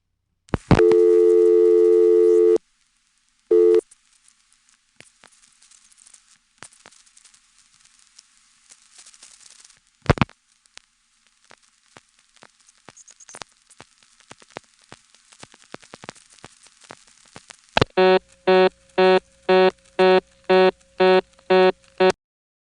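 Telephone line tones after dialing 711 on a Stromberg Carlson XY exchange: a long steady tone, a short tone, a few clicks, then a repeating run of evenly spaced busy-signal beeps, all clear and alone.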